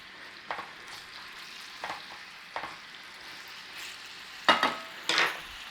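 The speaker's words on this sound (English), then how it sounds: "And what we're going to do is saute the meat first in there." Beef sautéing in a pan on the stovetop for a one-pot beef and barley soup, a soft steady sizzle broken by a few stirring scrapes and two louder clatters near the end, with no talk.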